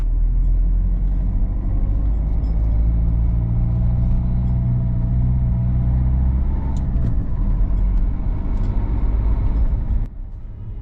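A car drives through the Langley Country Park housing estate off Radbourne Road, heard from inside as a loud, steady low engine and road rumble that holds throughout and drops slightly near the end.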